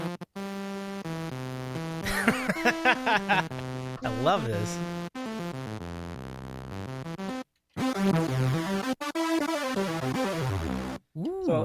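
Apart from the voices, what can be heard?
sawtooth wave synth tone, buzzy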